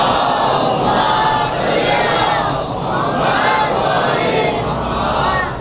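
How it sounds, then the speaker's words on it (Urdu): At a Muharram majlis in Mumbai, a large crowd recites salawat aloud in unison, a loud, dense wall of voices that swells and dips slightly as it carries on. "ایک باواز بلند سلوات پڑھ لوں."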